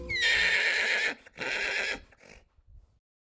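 A horse whinnies loudly and close by in a long, shrill neigh, then gives a shorter second call before falling quiet, with faint low shuffling at the end.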